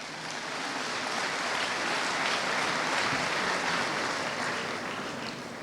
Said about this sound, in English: So we need to clap for ICAN.